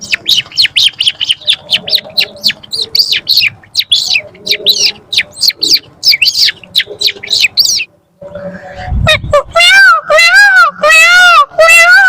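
A child imitates a bird's chirping welcome with rapid, loud, repeated whistled tweets, then after a brief pause switches to rising and falling warbling calls, performed up close at an open mic show.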